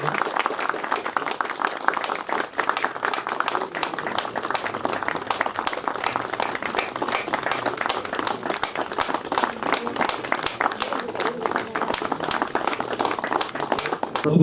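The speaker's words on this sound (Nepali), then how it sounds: "ताली लगाइदिनु हुन म सबैलाई" Crowd at an outdoor commemoration program at scenic Satahukot claps in sustained, even applause for about fourteen seconds, dense and fairly close, with no speech over it.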